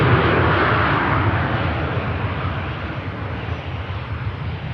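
An airliner rolls off the runway onto a rapid exit taxiway after landing at Manchester Airport, heard as a steady broad roar of engines and rushing air, loudest at first and easing slightly.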